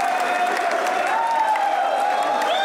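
Studio audience applause at a comedy show, a dense steady wash of clapping with a faint tonal line running through it, loud and continuous throughout.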